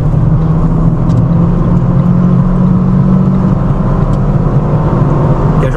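A car accelerates hard in fourth gear, the engine drone loud, close and steady throughout with a constant low rumble and no talk over it.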